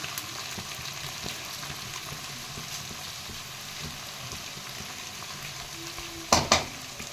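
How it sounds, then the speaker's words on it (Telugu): Okra sizzles steadily in hot oil as a pan of spiced curry cooks, a constant fry hiss throughout with two sharp louder scrapes or clatters near the end; no one speaks. "ఇవన్నీ బెండకాయలు ఆయిల్లో బాగా మగ్గింది కదా."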